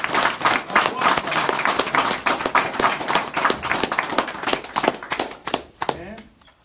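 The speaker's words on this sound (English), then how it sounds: "let's give them a round of applause" A small group claps steadily for several seconds, the applause loud and close before thinning out and stopping.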